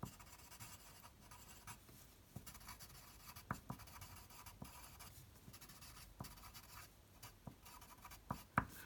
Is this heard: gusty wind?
no